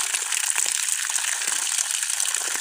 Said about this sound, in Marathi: संपूर्ण झाडांना पाणी घालणार आहे